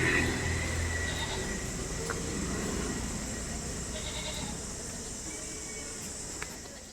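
Goats bleat a few times amid a noisy farm livestock setting, the calls moderately close over a constant hum of background noise.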